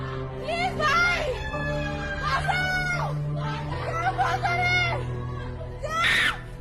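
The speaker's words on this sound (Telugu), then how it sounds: "ఆ రూమ్ లో నుంచి అరుపులు చూడండి ఎట్లా వినిపిస్తున్నాయో" A girl screams and wails from inside a room, with several long, rising and falling cries in a row, loud and strained, mixed with other voices and sobbing throughout.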